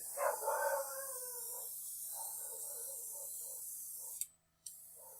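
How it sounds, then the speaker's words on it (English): A single dog barks and howls briefly at a distance over a steady mechanical hiss of an airbrush, then falls quiet. "Sounds like Jerry's barking at something."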